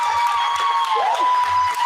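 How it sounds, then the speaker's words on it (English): An indoor audience claps and cheers in a brief, steady burst, with a whistle-like tone sliding through the noise. "you all can clap and make noise"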